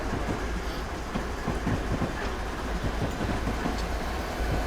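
A Union Pacific ES44AC freight train in the Train Simulator video game, Feather River Canyon route, rumbles steadily past with continuous rhythmic clattering of wheels on track, loud and close, with no voices.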